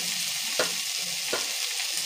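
Maggi noodles frying in a pan with a constant close hiss of hot oil, broken by two short scraping stirs.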